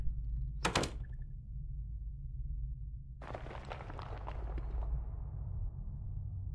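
Door opening in a horror game: a sharp thump, then after a pause a longer creaking, rattling swing that fades, over a low steady rumble.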